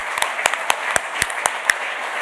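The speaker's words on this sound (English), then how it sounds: "I think we should just have a round of applause for that." An awards-ceremony audience starts clapping, with about eight separate, distinct claps spread unevenly over a couple of seconds instead of a dense roar.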